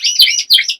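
Border canaries chirping close by, loud bright twittering in two quick bursts.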